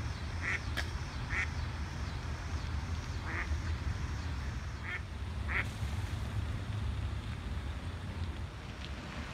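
Ducks quacking outdoors near water, several short distinct quacks spaced irregularly at a moderate distance over steady low wind or water noise, with no talking.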